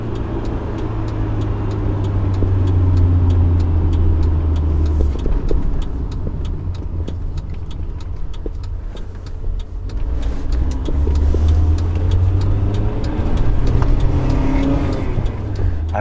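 A BMW E30 M3 engine drones loudly from inside the car, its tone rising and falling through rev-matched downshifts with two strong surges and a lull between, with no talk over it.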